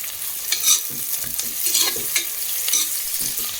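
Small onions (shallots) sautéing in a pan for mutton kuzhambu, a close, steady sizzle with scraping stirring strokes at a regular pace, no voices.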